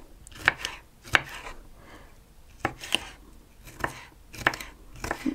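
A knife chops bell pepper into pieces on a board for baked zucchini caviar: a run of sharp, close, irregular thuds and clicks with quiet gaps between them and no voice.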